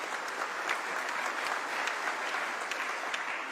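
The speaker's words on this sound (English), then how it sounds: "Keep clapping until she gets here, just to encourage her." An audience at a university event applauds continuously, a steady, fairly faint patter of many hands clapping throughout with no pauses.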